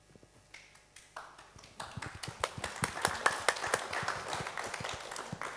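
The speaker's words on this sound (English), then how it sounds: "I don't know if you heard the applause" Scattered claps from an online workshop audience, starting sparse and building into steady, moderately loud applause of several people clapping at once, with no talk over it.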